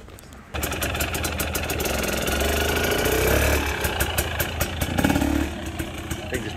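A 2023 GasGas 250EC dirt bike engine starts up abruptly, idles roughly, then rises and pulls away, staying loud and close throughout, with faint voices in the background.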